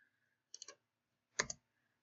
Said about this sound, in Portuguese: Tem que colocar o número de novo e apertar o Enter.